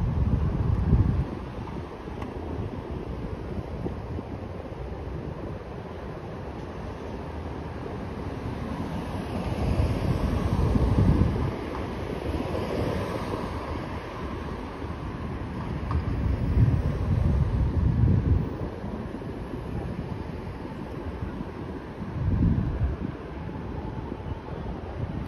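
Strong wind buffets a microphone outdoors on Broadway in Nashville, Tennessee, a continuous loud roar that surges in gusts with deep rumbling bursts throughout.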